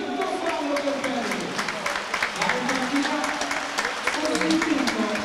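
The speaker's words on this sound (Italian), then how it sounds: "Applausi per lui" A basketball crowd in an arena applauding a player who fouled out late in the game, sustained applause under a commentator's voice.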